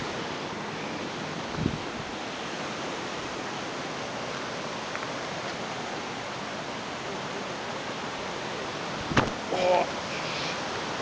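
A steady, dense roar of water from the cascades and waterfall at Oxford Falls in Sydney, heard close and constant with no breaks, with faint voices and a couple of brief knocks on top.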